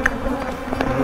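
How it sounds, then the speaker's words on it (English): Bees buzzing close by around a hive in a bay window, a busy droning hum with brief louder passes, steady throughout the short moment. "We've got bees everywhere thinking that their home is up here still, and it's not."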